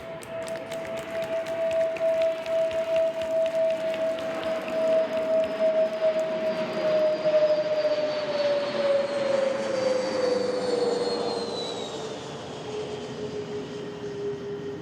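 Military training jets from the 86th Flying Training Squadron at Laughlin Air Force Base, Texas, fly over at a graduation ceremony, a loud, sustained engine whine and roar whose pitch falls as they pass.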